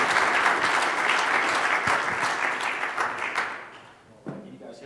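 An audience at a speaker-series event applauds a guest speaker, the steady clapping fading out over a few seconds before a voice briefly begins to speak near the end.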